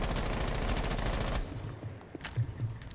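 Rapid automatic gunfire rattles in Rainbow Six Siege, a fast, loud burst lasting over a second, then cuts off into quieter scattered thuds and a brief sharp crack.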